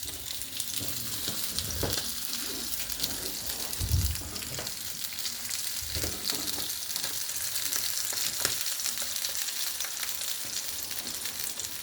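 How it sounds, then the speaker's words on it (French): Duck breast searing fat side down in a frying pan, a steady, close sizzle and crackle of rendering fat running throughout, with a few soft thumps and scrapes of the meat being settled in the pan. "je vais mettre dans la poêle du côté gras de la viande"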